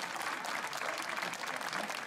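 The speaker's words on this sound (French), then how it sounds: "on peut applaudir Mustapha, merci beaucoup." Audience at a live stage show applauding steadily, a dense, even wash of many hands clapping at close range with no voices over it.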